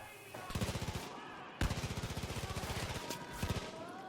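Rapid bursts of automatic gunfire in the video game Far Cry 5, two long volleys of tightly spaced shots with a short gap between, loud and close.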